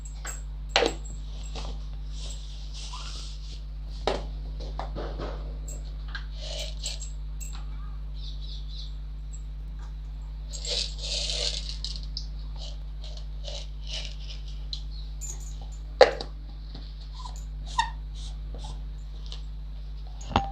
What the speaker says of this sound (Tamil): கடுகு நல்லா பொரியட்டுங்க.